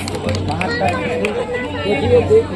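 A large crowd chatters at a Rahul Gandhi rally at Russell High School in Bahadurganj, a steady, close babble of many overlapping voices with occasional louder calls rising from the mass.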